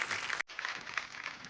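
Studio audience applause at a comedy show, a dense wash of clapping from a crowd, briefly cut off for a moment and then resuming steadily.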